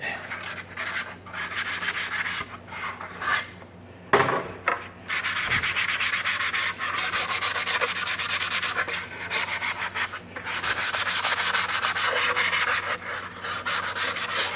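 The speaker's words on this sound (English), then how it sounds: "So just scuff it a little bit." A part is scuffed by hand to rough up its surface during a seat belt installation on an FSJ vehicle: close, loud rhythmic rubbing and sanding strokes fill the clip, with a few short pauses.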